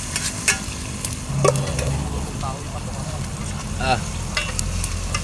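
Vegetables stir-fried in a pan over a wood fire in an outdoor kitchen, giving a steady sizzle with scraping stirs of a utensil, close up, while someone talks briefly.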